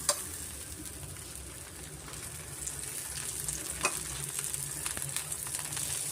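Rava dosa crisping in oil on a hot pan, giving a steady, faint sizzle that runs throughout, with only a couple of light clicks and no voices.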